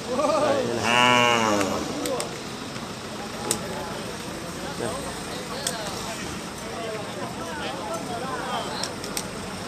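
Cattle low at a Hmong cattle market in Bảo Lâm, Cao Bằng, one loud nearby moo early on, then a busy crowd of voices and clatter continuing underneath.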